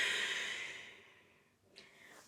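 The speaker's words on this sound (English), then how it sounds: "Exhale, forward fold." A single long, audible exhale during a yoga sun salutation flow releases softly and fades over about a second, followed by a brief quiet breath sound.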